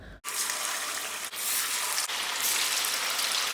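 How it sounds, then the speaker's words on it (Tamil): Chicken 65 pieces deep frying in hot oil in a kadai, a loud, steady hiss and sizzle that breaks in sharply and carries on without pause. "இப்போ டீப் ஃப்ரை பண்ணுறதுக்காக கடாயில் எண்ணெய் ஊற்றிருக்கேன்"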